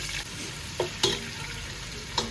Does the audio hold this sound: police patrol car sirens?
no